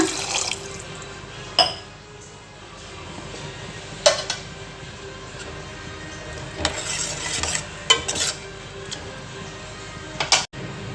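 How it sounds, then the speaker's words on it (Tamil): Close-up kitchen sounds of stirring a kurma in a pan after adding water, with occasional scrapes and clinks over a steady low sizzle and watery bubbling. "இப்போ இது நல்லா வேகணும் இல்லையா அதுக்காக இன்னும் கொஞ்சம் தண்ணி தாராளமாக ஆட் பண்ணிக்கோங்க"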